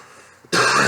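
A man gives a single loud, harsh cough that bursts out abruptly after a near-silent stretch, close to the microphone, during a post-fight boxing interview.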